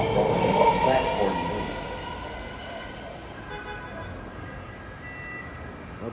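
A nine-car, three-door Fleet of the Future metro train on the Orange Line to Richmond arriving at a Fremont station platform; a rumbling roll with tonal whine that is loudest at the start and then fades, with a platform announcement heard over it.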